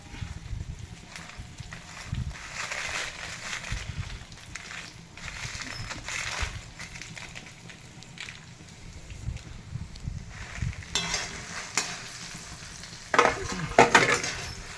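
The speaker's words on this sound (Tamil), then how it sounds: "இது போல் பாதி வறுப்படும் பொழுது நம்ம மிளகாய் வத்தலை சேர்த்துக்கலாம்." Spices roasted with dried red chillies in a pan for puliyodharai powder: a continuous dry rustling sizzle with repeated scraping stir strokes, growing louder near the end, close and without speech.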